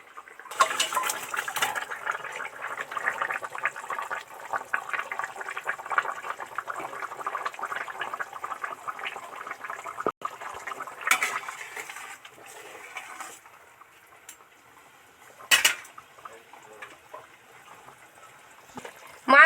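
Mustard paste sauce for Bengali parshe fish jhal bubbling and boiling in a pan, a steady close gurgling simmer with brief louder spurts, no voice.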